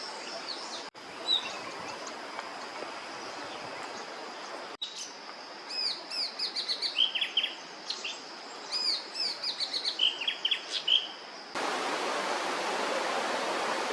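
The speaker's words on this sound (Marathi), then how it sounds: "मलबार फ्लेमबॅकचा आवाज अधूनमधून येतो आहे" Forest birds call in a jungle near Kumbhavade, among them a Malabar flameback. Repeated bright chirping phrases come in clusters over a steady, rushing background hiss.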